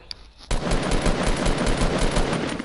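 Rapid automatic gunfire from a video game, loud and continuous bursts after a brief quiet start, sustained to the end with no talk over it.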